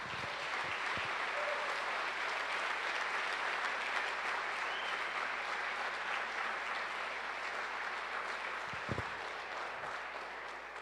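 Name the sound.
applause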